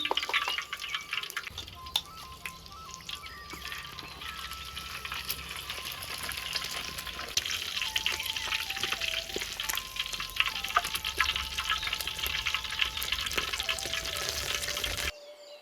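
Spice paste for village-style nasi goreng frying steadily in hot oil, a continuous close sizzle with occasional stirring scrapes, running unbroken for about fifteen seconds with no voices.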